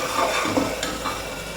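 Tomato and green chilies sautéing for egg mandi, a soft frying hiss with a spoon scraping and stirring in the pan, brief and close, no talking.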